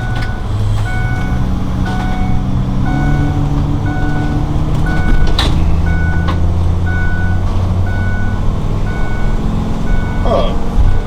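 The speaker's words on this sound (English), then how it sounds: "Got a seatbelt sensor or something going off here." A seatbelt warning buzzer in a 2010 Winnebago Sightseer 37L Class A gas motorhome beeps steadily at an even pace over the loud, constant drone of the engine and road noise while driving.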